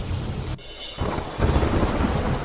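Heavy monsoon rain pours steadily in Gujarat, a broad hiss with low thunder rumbling beneath it, briefly dipping before returning louder and fuller.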